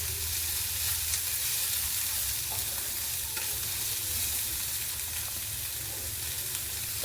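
Chopped vegetables for veg cutlets frying in a pan with a spoonful of oil, a continuous even sizzle with occasional light stirring sounds, steady and close with no talking.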